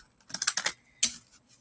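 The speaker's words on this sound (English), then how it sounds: "I already shuffled and blessed my deck, so I'm gonna go ahead and just give it another quick shuffle" A deck of tarot cards is given a quick shuffle, a brief flurry of crisp card flutters and riffles up close, then a single sharp snap, with no talking.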